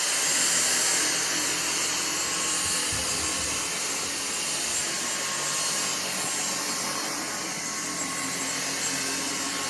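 A Dyson V6 cordless stick vacuum runs continuously with a steady, loud motor whine and airflow hiss that holds at an even level throughout, with no voices.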